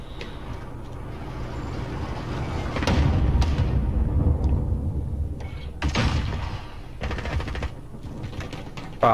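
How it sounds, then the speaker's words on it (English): Gunfire rattles through a shooter video game in a dense, rumbling battle mix, with a few sharper cracks and bursts standing out over steady low background noise. "There's that many explosions going off around me. And gunfire."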